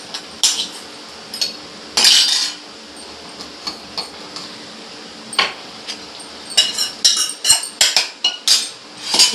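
A spoon clinks against a glass bottle as spice powder is scooped in, with scattered sharp metallic-glassy taps, a few isolated and a quicker cluster near the end, close and fairly quiet in between.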